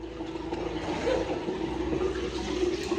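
A toilet flushes in a marina bathroom, a steady close rush of water that holds for the whole stretch without letting up.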